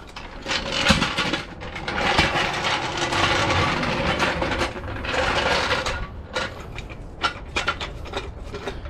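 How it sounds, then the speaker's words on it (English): A floor jack ratchets as it is pumped up under the back of a transmission during a K20A2 engine swap into an EF sedan, with repeated clicking strokes and mechanical clatter close by. "let me grab my jack and prop it"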